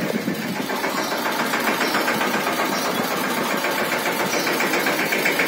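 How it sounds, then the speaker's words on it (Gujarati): A tractor engine runs steadily as it drives into a home yard from a farm field shortcut, a continuous close, loud mid-pitched rumble with no talk over it. "હવે છેઠ ને ટ્રેક્ટર એન્ટર થાય હે ઘરે"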